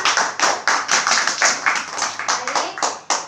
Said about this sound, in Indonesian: Tepuk tangan untuk kelompok pertama.